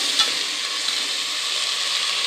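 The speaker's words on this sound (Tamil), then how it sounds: "இஞ்சி பூண்டு பேஸ்ட் நல்லா வதக்கிட்டு" Ginger garlic paste sautéing in a pan, a steady close hiss and sizzle with a faint stirring scrape near the start, no voices.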